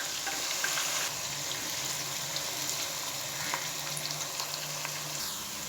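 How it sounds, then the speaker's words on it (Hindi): Two medium onions frying in hot oil in a pan for chana daal keema, a steady close sizzle throughout with faint clinks, no talking. "अब सबसे पहले मैं इसमें दो दरमियाने साइज़ के प्याज ऐड कर रहा हूँ।"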